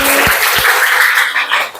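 A classroom of children clapping together, a short burst of dense, close applause that thins out toward the end.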